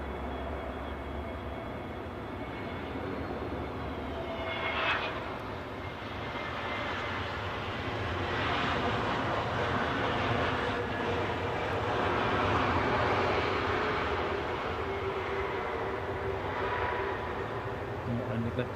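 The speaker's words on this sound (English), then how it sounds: "the plane you are looking at is a TAP arrival, Air Portugal, inbound from Lisbon" A TAP Air Portugal Airbus A321 arriving at London Heathrow from Lisbon roars steadily with broad engine rumble that swells toward the middle and holds, heard from nearby on the ground, with a person talking over it.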